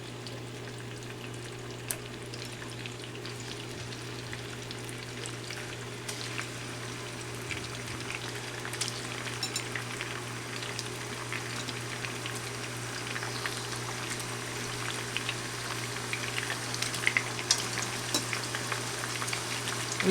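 A dozen shrimp fry in a hot pan for shrimp al ajillo, a steady hissing sizzle with scattered tiny pops and a low constant hum beneath, moderately loud and with no talking.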